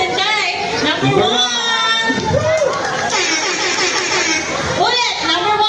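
A crowd of adults and children at a resort event shouts and cheers loudly and continuously, with excited voices overlapping throughout.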